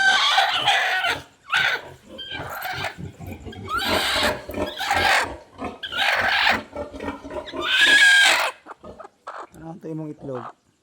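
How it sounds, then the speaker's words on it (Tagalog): Egg-laying hens on a farm cluck and squawk repeatedly at close range, with a few louder cackles among them, while a person talks nearby. "manok na nangitlog"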